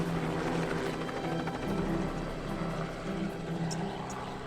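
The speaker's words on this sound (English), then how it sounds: "So the nets are all set up and the helicopter's just taken off." Helicopter taking off near nets set for capturing wild dogs: a faint, steady engine and rotor drone hums evenly throughout, heard from a distance with no talk.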